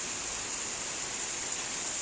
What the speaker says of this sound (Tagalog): basang-basa ngayon sa ulan si Benchong.